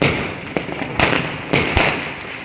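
Fireworks and firecrackers bursting in a rapid irregular series of sharp, loud cracks and pops, several close together with echoing tails.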